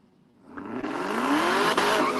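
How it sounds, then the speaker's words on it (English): A Mercedes and a Camaro drag racing, engines rising from quiet into a loud, building roar with rising engine pitch and tire noise as the cars launch and accelerate. "Think that Mercedes right lane going up against the Camaro"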